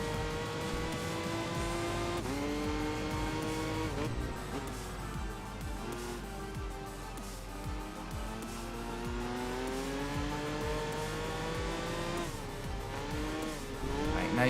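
A rally car races in the driving game Enthusia Professional Racing, its engine revving loud and continuous with rising and falling pitch through gear changes, tires squealing now and then.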